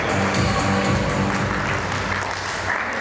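Sustained, dense applause fills a hall at an alumni reunion meet, the clapping steady and loud throughout with a faint murmur of voices beneath.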